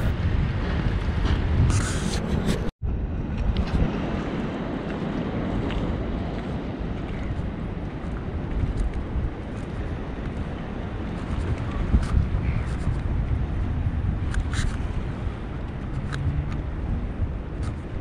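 Wind and sea near a seaside fishing spot, a constant broad rumble of gusts buffeting the microphone over the low wash of water, steady and fairly loud with a short dropout early on.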